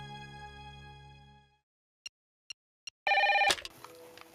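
Telephone ring while dialing a doctor: a sustained electronic ringing tone, then three short isolated beeps and a brief loud burst of ringing, close and clear with no talk.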